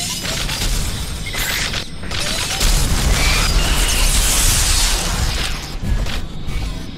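Video game weapon fire, explosions and heavy mech bot footsteps come in layered bursts, with dense booming impacts and a sustained loud stretch of blasts and mechanical clanks.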